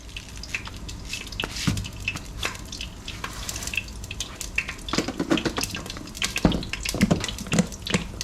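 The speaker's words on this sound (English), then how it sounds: "we're just gonna pour it into a bowl, rinse it off" Water splashes and drips as rice is swished and rinsed in a bowl, with irregular close-up sloshing and trickling throughout.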